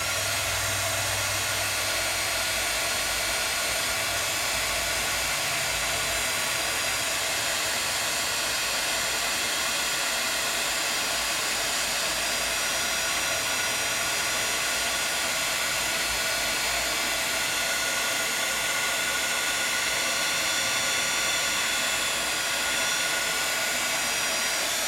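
A heat tool blows continuously and loudly at close range, a steady roaring whoosh of hot air melting polished embossing powder, unbroken for the whole stretch with no talk.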